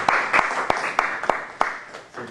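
Scattered applause at a seminar, a short burst of several separate distinct claps from a small audience, fairly close and fading out after about two seconds.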